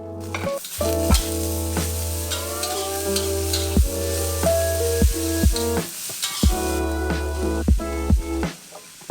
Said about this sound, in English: just throw all the ingredients in and cook it for around 1 or 2 minutes